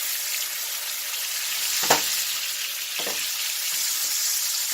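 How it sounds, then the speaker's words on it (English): A T-bone steak sears in a pan with thyme and rosemary, giving a steady close hiss of frying fat with a couple of brief louder crackles and scrapes. "Listen to that sizzle."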